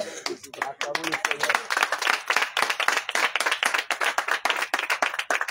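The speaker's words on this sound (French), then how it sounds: "Acclamons le Seigneur Jésus." A church congregation in Pahou, Benin claps in a fast, steady rhythm, loud and close, with voices mixed into the applause.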